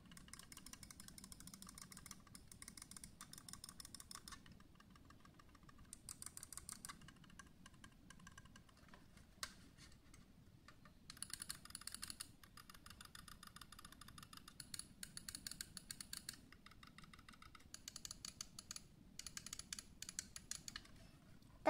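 Rapoo M500 silent mouse buttons tapped in bursts of soft, rapid left and right clicks, quiet and close, with brief pauses between runs and no talking.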